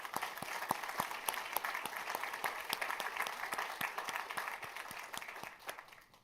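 An audience at a university State of the University address applauds with distinct, rapid individual claps that hold steady, then thin out and fade near the end.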